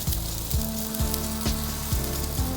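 Spatchcock jerk chicken cooking over heat, a loud, continuous sizzle and crackle with a low rhythmic mechanical hum underneath, no speech.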